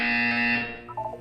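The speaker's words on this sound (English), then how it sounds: "When you hear the buzzer, look up at the ceiling." A sustained electronic buzzer from the video game Portal 2, loud and steady for most of a second before tapering into a few brief wavering tones.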